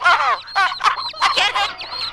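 Cartoon chickens cluck in a quick series of bright, voiced bursts, close and fairly loud, with short gaps between the squawky calls.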